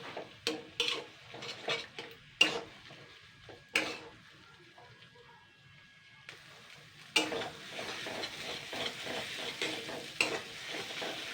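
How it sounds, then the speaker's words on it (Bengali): Taro greens (kochu shak) stirred and frying in a pan, with repeated close scraping strokes over a steady sizzle, a quieter stretch in the middle, then denser continuous frying noise. "এবার আমি এটা দিয়ে ভালো করে আবারও নাড়াচাড়া করব।"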